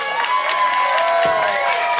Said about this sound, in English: Now you can cheer because they're still with us.